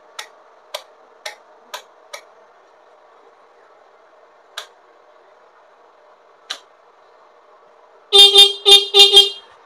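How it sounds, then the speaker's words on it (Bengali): A stock horn on a Bajaj M80 scooter, engine off, blares in a few loud, close bursts near the end, after several sharp ticks and clicks over a faint steady hum. "দেখো স্টক হর্ন বাজছে"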